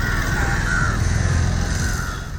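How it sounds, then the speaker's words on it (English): Crows cawing at a garbage dump site, a few drawn-out calls over steady, loud outdoor background noise. "These crows have made this dump site their home."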